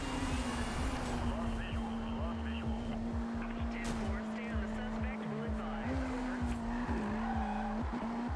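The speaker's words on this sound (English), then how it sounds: "Sometimes the drifting in this game is very satisfying" A racing car drifting in a video game, with sustained tire squeal over a continuous engine drone and game music, while a voice talks over it.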